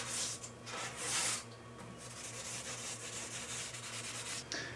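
Hand sanding over primer on a painted surface makes a steady, close rasping scrub. Strokes come in a few bursts and sit over a low background hum.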